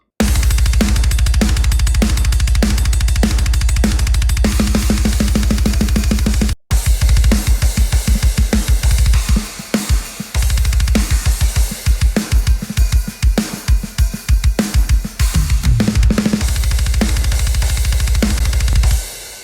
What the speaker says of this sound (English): And those drums sound like this.